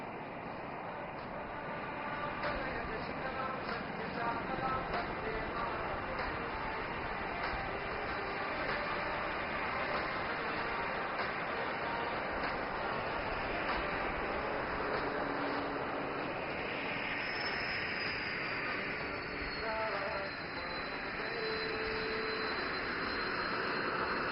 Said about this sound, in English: The helicopter will execute a steep, rapid ascent to gain altitude and level off at the top into a high hover.